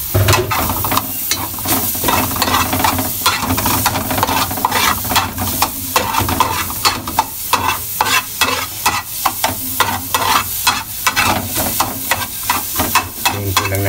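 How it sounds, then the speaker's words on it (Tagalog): Garlic frying to golden brown in oil for pork curry, a loud close sizzle with brisk, rhythmic spatula stirring and scraping that continues throughout, no talking. "Ngayon po lang natin mag-golden brown yung ating bawang."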